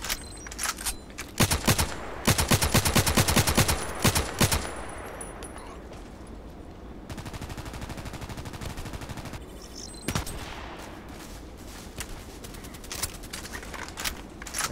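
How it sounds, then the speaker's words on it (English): Gunfire in the video game Contract Wars: loud bursts of rapid automatic shots come in clusters, with quieter scattered shots and background rattle between them and no talking. "Shots on the other side"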